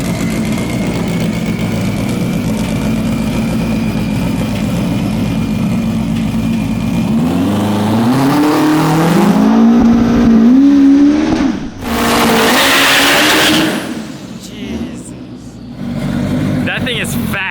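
A 1200-horsepower Honda S2000 drag car roars through a burnout, its loud engine climbing and revving hard before cutting off. People talk throughout.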